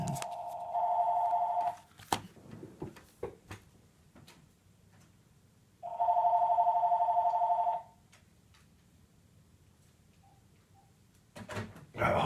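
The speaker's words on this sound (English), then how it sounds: "Home phone ring." Home landline telephone rings in two long electronic bursts a few seconds apart, fairly loud and close, with quiet room handling noise between them and no talk.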